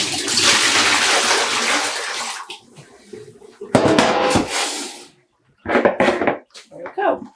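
Water poured and splashing out of a yarn dyeing pot at home, a loud rushing pour for a couple of seconds, then scattered splashes, drips and clunks of the pot in separate bursts.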